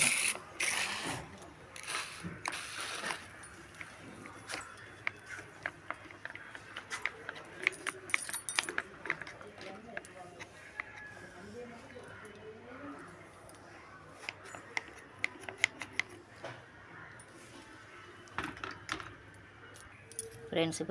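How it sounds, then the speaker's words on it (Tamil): Repeated short hissing bursts from a spray bottle spraying plants, fired in quick clusters with small clicks between, fairly close and otherwise quiet. "இப்போ இதை எடுத்து ஒவ்வொரு செடியாக ஸ்ப்ரே பண்ண"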